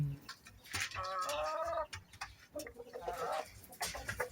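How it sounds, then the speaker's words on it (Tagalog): A young Rhode Island rooster in a backyard breeder flock on a morning, giving a drawn-out crow followed by scattered clucks and bird calls, fairly close and moderately loud. "Yan yung rooster natin"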